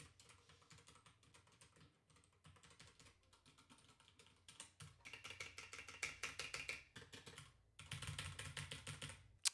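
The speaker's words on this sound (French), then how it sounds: "je vais commencer par taper sur le clavier" Rapid clattering keystrokes on a computer keyboard, recorded through a Rode PodMic, quieter and sparse at first, then denser and louder bursts of typing with brief pauses.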